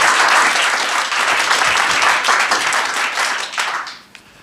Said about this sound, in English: Give yourself a big hand of applause.